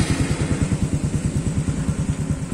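Honda Dash 125fi motorcycle fitted with an Espada E4 open silencer on a 28mm manifold, idling with a steady, close, loud low-pitched exhaust burble in rapid even pulses, with no talking.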